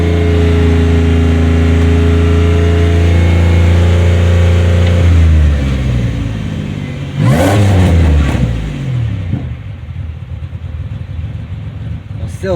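A 2007 Pontiac Grand Prix GT engine with a low, steady rumble that rises sharply in a quick rev to about 3,500–4,000 rpm partway through, then settles back to a rougher idle.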